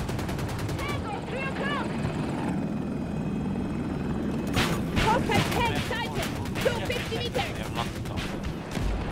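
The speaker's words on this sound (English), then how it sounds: "Chopper up." KA-520 Super Hokum attack helicopter in Battlefield 2042, a steady rotor thrum throughout with bursts of gunfire and chopping blades growing denser in the second half; voices talk over it.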